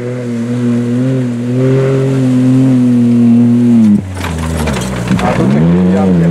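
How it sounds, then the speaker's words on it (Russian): A buggy drives through mud at a mud race, its engine droning loud and steady, then the pitch drops abruptly and gives way to a rougher churning as the revs fall and climb again, with a voice talking. "Ваги едет."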